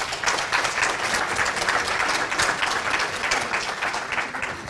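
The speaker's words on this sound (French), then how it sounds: "J'ai trouvé que les applaudissements étaient mous." An audience at a Red Cross caregiver-training brunch in Tours applauds in a steady, dense wash of clapping that holds even and fairly loud throughout, with no voices over it.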